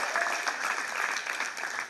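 A theatre audience at a National School of Drama play applauds steadily, a dense, even wash of many hands clapping at moderate distance with no break, a faint voice barely surfacing beneath.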